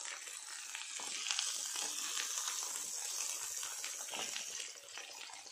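Tandoori chicken sizzles in a pan over a flame, a steady hissing crackle with faint irregular pops, soft and continuous with no talking.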